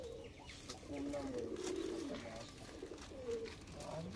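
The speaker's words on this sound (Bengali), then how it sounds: "খুব ছটপটে পায়রা।" Pigeons in a pigeon loft coo softly in repeated low, rolling phrases, fairly quiet, with faint background voices.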